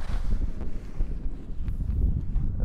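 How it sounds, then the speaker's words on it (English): Strong wind at a campsite in the Wichita Mountains roars and buffets the microphone continuously, a loud rumbling gust noise with no other sounds standing out. "it's really fucking windy"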